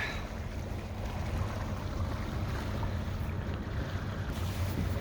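An electric boat puttering slowly across open water on a calm day, a low steady hum and water wash under continuous wind buffeting on the microphone, with no one speaking.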